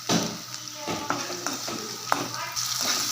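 Tomatoes sauté in hot oil with a continuous bright sizzle, broken by a handful of clicks and scrapes as they are stirred, close and moderately loud.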